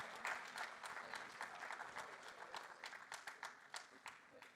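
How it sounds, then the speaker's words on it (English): A conference audience on a main stage applauds the presenters, giving a steady wash of clapping heard at moderate distance, with a few faint voices mixed in. "Round of applause for these guys."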